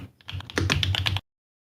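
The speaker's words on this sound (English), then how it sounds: "Eli, you're typing, hot micing." Rapid keystrokes on a computer keyboard picked up by an open mic in a voice chat, a quick burst of close, clicky taps for about a second before it cuts to silence.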